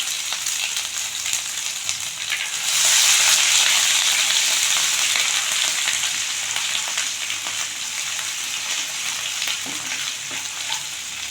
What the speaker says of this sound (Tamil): இப்போ எண்ணெய் நல்லா காஞ்சிச்சு. இதில் இஞ்சி பூண்டை தட்டி வச்சதை போட்டுக்கலாம்.